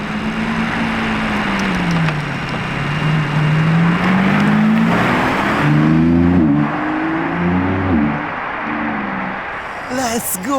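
A Lamborghini Revuelto engine revs up and down in a rising, falling pattern, loud and close, with a sharp burst near the end.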